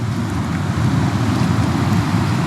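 Ocean waves rolling in at Hot Water Beach in New Zealand, with the tide pushing up the shore: a loud, continuous wash of surf and rushing water, steady throughout with heavy wind buffeting the microphone.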